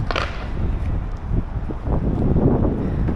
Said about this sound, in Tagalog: Sarap ang hangin, malamig.